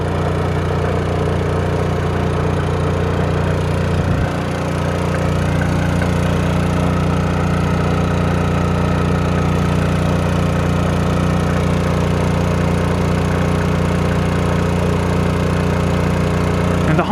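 A Pulsar 2300 and a Honda EU2000i portable generator run side by side, a steady droning engine hum with a brief dip in the low rumble partway through, close and continuous.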